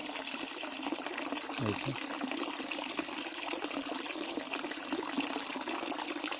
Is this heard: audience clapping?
no